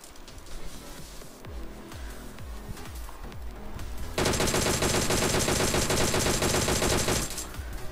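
Rapid automatic gunfire in PUBG Mobile, a steady stream of fast bursts through the back half, loud and dense, following a stretch of quieter, sparser shots and game noise.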